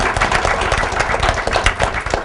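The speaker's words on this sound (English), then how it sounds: "So I want to give a big round of applause to our panel" An audience claps in dense, steady applause for a panel after a discussion on domestic work. The applause sounds close and sustained, with no one speaking over it.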